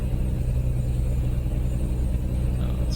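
Low, steady truck engine rumble in American Truck Simulator, a constant droning hum with no distinct gear change heard, and no talking.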